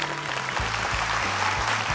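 A studio audience at a children's talent show gives a short round of steady clapping, moderately loud and even throughout.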